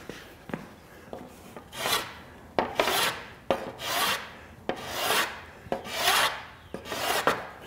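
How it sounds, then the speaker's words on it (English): A hand plane shaves along a wooden boat hull edge to round it, making repeated rasping strokes about once a second, each with a sharp start and a soft hiss of curling wood, close and alone. "So I'm going to do that with my hand plane."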